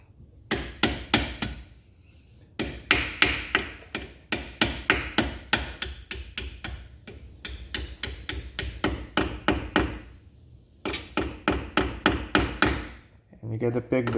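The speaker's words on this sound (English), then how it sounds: "That's where you're gonna grab your hammer." A hammer taps brake caliper pins on a 6-piston Brembo caliper, striking in quick repeated bursts of sharp metallic knocks, close and loud, with short pauses between groups of blows.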